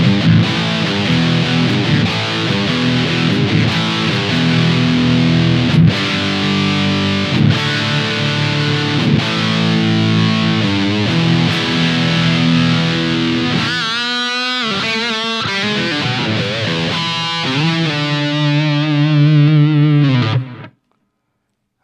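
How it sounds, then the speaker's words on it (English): An electric guitar riff runs through a Dr. J Arsenal distortion pedal and a Shadow Echo delay, driven and sustained, with a choppy stuttering section near the end before the notes ring out and stop abruptly. "I'm using the Dr. J Arsenal for distortion and the shadow echo to get a little delay for this riff"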